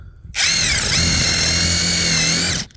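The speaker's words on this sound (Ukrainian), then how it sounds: "як імпактом свердлити акацію" An impact driver spins up into a loud, high-pitched whine that holds steady for about two seconds as it bores into acacia wood, then cuts off.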